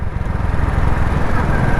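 A motorcycle cruises smoothly in third gear with a steady, loud, low engine drone and a rapid pulsing exhaust beat, close by, with wind noise over it.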